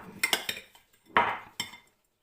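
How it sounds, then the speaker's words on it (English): Spoon scraping and clinking against a bowl and cases while a cheesecake butter mixture is scooped out, a few quick metallic taps followed by a softer scrape and another clink, close and clear. "Just going to spoon it into the cases"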